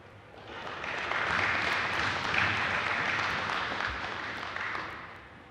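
Applause from the gallery of a House of Assembly sitting, a broad wash of clapping that swells in, holds for several seconds, then fades, moderately quiet and heard from a distance with no speech over it.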